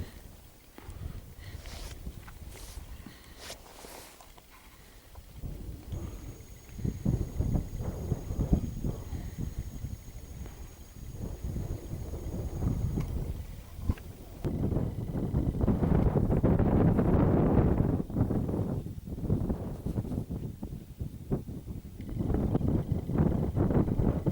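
Strong wind gusting across a freezing hillside near Meall nam Fuaran, a broad roaring rush that swells and buffets the microphone, loudest in the second half, with no voices.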